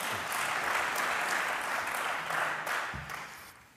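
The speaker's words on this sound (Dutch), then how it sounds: "Ik zeg nu een applaus." A brief burst of steady applause from the audience at a sports federation livestream greets a panel of four, holding loud and even before tapering off at the end.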